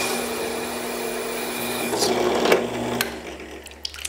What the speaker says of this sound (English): I'm drilling through with my diamond core saw